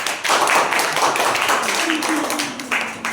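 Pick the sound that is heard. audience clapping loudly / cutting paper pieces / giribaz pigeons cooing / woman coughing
audience clapping loudly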